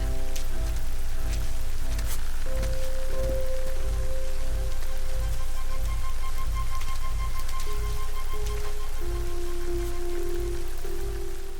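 Rain falls steadily on surfaces in a horror film scene, forming a continuous, fairly loud patter over a low rumble, with faint tonal hums beneath and no talk.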